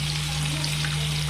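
Fish frying in oil in a home kitchen gives a steady, close, even sizzle with a low constant hum underneath.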